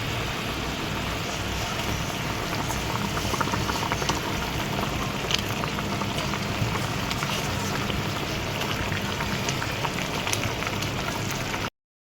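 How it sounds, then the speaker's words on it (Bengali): A spice masala for aloo dum bubbles and sizzles in a pot, a continuous dense simmering hiss with small pops, steady and close for the whole stretch. "দেখুন আমার মশলাটা ফুটে গেছে"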